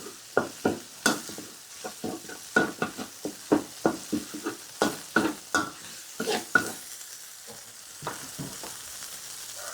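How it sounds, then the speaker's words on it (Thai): Thai curry paste stir-fried in a pan for nam prik with sun-dried pork: a steady run of sharp spatula scrapes and clacks over a soft sizzle, close and clear with no talking. "ผัดให้หอม"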